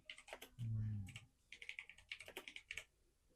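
Clicking keystrokes on a computer keyboard come in quick uneven bursts, fairly close and clear. A brief low hum sounds partway through.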